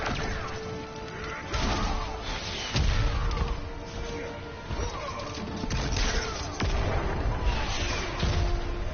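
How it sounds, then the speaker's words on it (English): Missiles exploding during an Injustice 2 fight, a steady barrage of heavy crashes and booms every second or so, loud and dense, mixed with game impact sounds and no speech. "These missiles just keep messing up my flow here."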